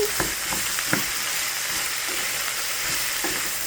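Blanched green beans and bacon being stirred in a hot pan, with a steady sizzle throughout and a few scraping utensil strokes against the pan.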